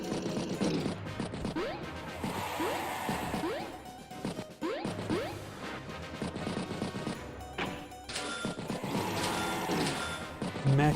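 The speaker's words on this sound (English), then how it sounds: "Destroys pipe seam." A pipe seam being destroyed in Advance Wars: a dense, continuous run of crashing, smashing game effects with mechanical clanks and bursts, loud throughout and with no speech.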